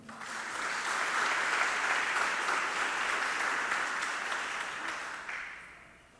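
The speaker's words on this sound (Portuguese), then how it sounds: "Aplauda ao Senhor." A church congregation applauds together after a prayer, a soft, even wash of many hands clapping that swells, holds for several seconds and then fades out at the end.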